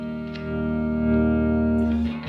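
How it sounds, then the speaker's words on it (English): Original 1957 blonde Fender Stratocaster electric guitar played clean straight into an amp, one sustained ringing chord held for about two seconds before a short pick scrape, loud and close with no effects. "now I'm playing it on no effects at all, no distortion like that. It's just straight into the amp."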